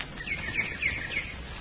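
Birds chirp in trees as a radio drama sound effect, a few faint thin tweets and trills scattered over a low muffled, band-limited background hiss.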